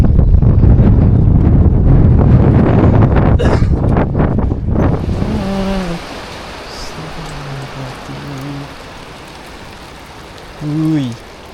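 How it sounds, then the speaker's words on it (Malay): Strong wind buffets a raft on a river in Johor during a fishing trip. Loud roaring gusts fill the first half, then ease into a quieter rush as voices talk over it. "Kuat angin."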